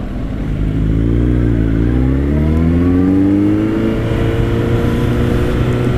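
Many motorcycles riding along a busy street at a bike festival in São Lourenço, Brazil, a loud continuous engine rumble with rising and falling revs as bikes pass close by, no talking.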